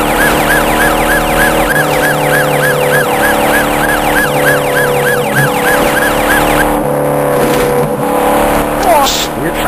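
Police sirens wail in a stop-motion car chase, a loud repeating up-and-down siren over engine roar and dramatic music, fading out partway through as other effects take over.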